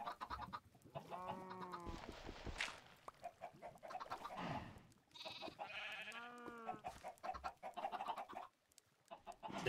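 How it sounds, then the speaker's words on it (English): Chickens in the video game Minecraft cluck loudly and repeatedly in close, choppy squawking bursts that overlap one another across the whole stretch. "Chickens."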